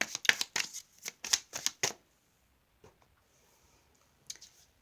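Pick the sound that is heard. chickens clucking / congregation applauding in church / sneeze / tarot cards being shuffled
tarot cards being shuffled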